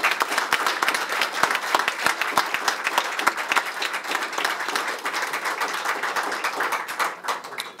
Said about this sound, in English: please join me in a warm round of applause for Congressman Ed Pease